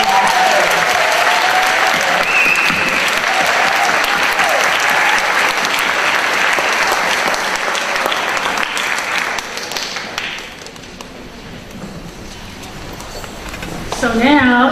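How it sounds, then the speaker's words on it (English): Audience at a school board meeting applauds a student, broad steady clapping that holds strong for about nine seconds, then thins and fades before a short rise at the end. "we would love to applaud Brian Pearlstein for his great work."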